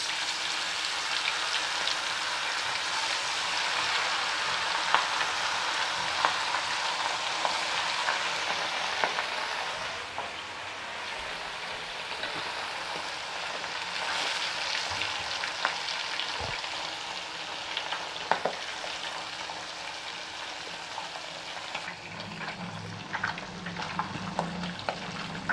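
Pomfret fish fry in hot oil, a continuous crackling sizzle heard up close for a long stretch, with occasional sharper pops and utensil taps and a brief change in tone near the end.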